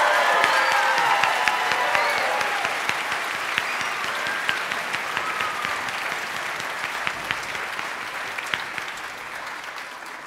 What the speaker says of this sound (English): show them by some more applause how well you think they did